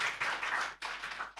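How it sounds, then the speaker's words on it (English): A small audience claps after a talk at a university career fair session, fairly faint and close, in two short bursts with a brief gap between them. "give a big round of applause to the Datuk Bruce Lim for the talk, Growth and Greek"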